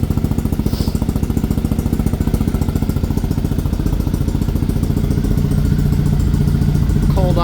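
Cold-started Triumph Thruxton 900 carbureted twin idling low on its stock CDI ignition, a steady close, loud, even mechanical thrum with a faint rattle running throughout, alone with no talk.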